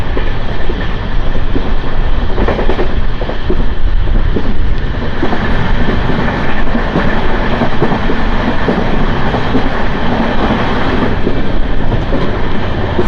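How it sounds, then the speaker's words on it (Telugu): A Macherla–Vijayawada MEMU train, number 07228, runs on rails with a loud, continuous close rumble and rhythmic wheel clatter throughout. "Seven 228 Macherla Vijayawada memo train ఇది."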